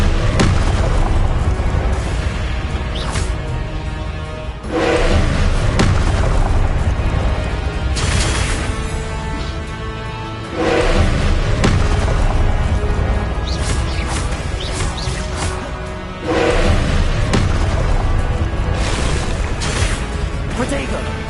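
Spell explosions and combat effects from Hogwarts Legacy boom in repeated loud bursts over dense game music, while a voice talks throughout.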